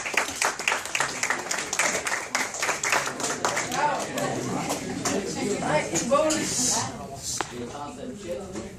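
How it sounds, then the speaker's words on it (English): Small group of people clapping in a classroom or lab setting, scattered uneven claps at first that thin out, mixed with people talking and shuffling over most of the stretch. "Can we give a round of applause"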